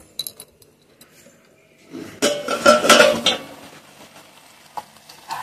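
A greens curry in a pot is mixed with batasa at home, with sharp clinks and scrapes of a utensil against metal, a busy burst of clattering in the middle, then sparse taps.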